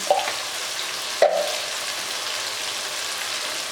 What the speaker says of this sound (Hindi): 5 मिनट हो गया हमको इस तरह भूनते हुए